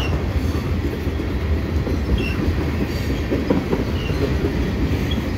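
A CN freight train led by a C44-9WL locomotive and hauling a long string of tank cars rolls past at Dorval at night, a steady loud rumble of wheels and cars with faint clacking throughout.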